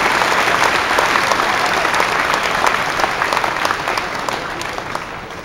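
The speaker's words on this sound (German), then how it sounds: "Geben Sie einen kräftigen Applaus" A crowd applauding at a cattle show, dense, loud, sustained clapping from many hands that gradually eases toward the end.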